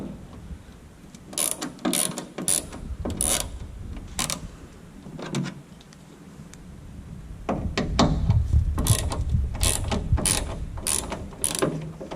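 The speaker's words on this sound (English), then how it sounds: "to remove the taillights, we have 2 screws, one on the top and one on the bottom. I'm gonna remove these 2 first." Screws come out of a 2014–2020 Toyota Tundra tail light under a ratcheting Torx driver, giving close, loud bursts of clicking pawl rattles with short pauses between turns.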